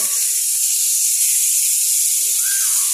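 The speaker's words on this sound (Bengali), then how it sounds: "হালকা করে ভাজতে চাইছিলাম হয়ে গেছে কড়া কড়া ভাজা হয়ে গেছে" Food fries to a crisp in a home kitchen pan, producing a steady loud hiss of sizzling oil throughout, with no talking.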